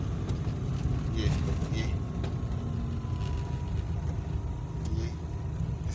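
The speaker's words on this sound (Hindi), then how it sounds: "सेकंड गियर में मैं नीचे उतर रहा हूँ सारा।" A car rolls down a steep hill road near Murree in second gear without braking, its engine a steady low drone with road rumble throughout while someone talks over it.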